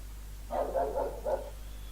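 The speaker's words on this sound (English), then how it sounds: "Sorry about the dog barking." A dog barks indoors, a short burst of about four quick barks at moderate distance over a low steady hum.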